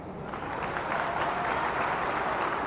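Rally crowd applauding steadily at a political rally in Gwalior region, Madhya Pradesh, dense continuous clapping that swells slightly and holds, fairly loud and close, with no speech over it.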